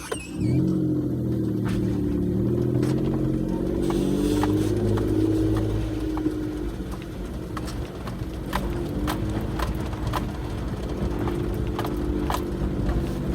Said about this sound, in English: let you hear the engine a little bit and what it sounds like going through the gears